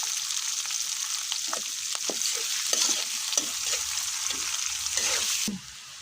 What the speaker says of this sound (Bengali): এখানে যে পেস্ট রসুন কাঁচামরিচ দিয়ে এখন ভেজে নিব।